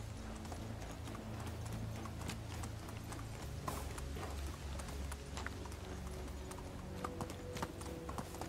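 Horse hooves clip-clopping in the video game Medieval Dynasty, a steady rhythmic trot of hoofbeats that carries on throughout at a moderate level, alone with no talk.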